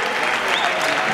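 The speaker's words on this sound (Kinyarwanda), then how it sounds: "dukomere Imana amashyi menshi cyane" A congregation at a Christian worship gathering breaking into loud, dense applause, many hands clapping together in a short sustained burst.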